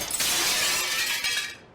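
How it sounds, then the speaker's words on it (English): A window shatters in the upstairs of a baker's house and the glass comes down, a loud, bright crash that keeps spraying and tinkling for nearly two seconds before it stops abruptly. "The window broke and glass fell down"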